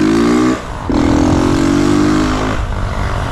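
A 2022 Honda Titan 160 motorcycle with a modified exhaust, revving loudly up close, one short burst, a brief dip, then a sustained high rev that slowly falls away.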